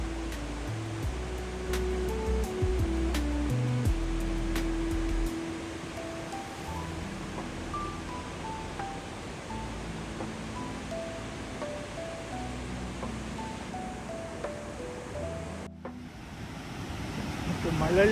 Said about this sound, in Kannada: ಮಳ್ಳಳ್ಳಿ ಫಾಲ್ಸ್ ಹತ್ರ ಬರ್ತಾ ಇದ್ದೀವಿ.